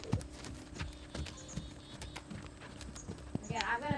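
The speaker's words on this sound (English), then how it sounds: "I'm going to ask her for trot." A young horse trots on a lunge line, its hooves striking a steady, rhythmic clip-clop at moderate distance, with faint ambient noise and a brief voice near the end.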